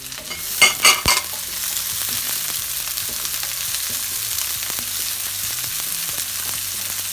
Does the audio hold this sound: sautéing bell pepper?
yes